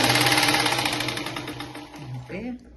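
A sewing machine stitches a seam across a blouse sleeve in a fast, even mechanical chatter that slows and breaks off near the end, followed by a brief wobbling whir.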